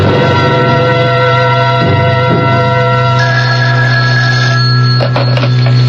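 A loud old-fashioned telephone bell rings steadily as a sound effect in a 1981 radio mystery drama, the trilling ring continuing alone without talk.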